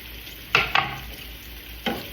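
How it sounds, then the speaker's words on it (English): Onion and garlic stirred and sizzling in a pan, heard as three short scraping, frying bursts over a quiet steady hiss, with no talking. "you're going to bring this up to a nice sizzle till the onions are tender"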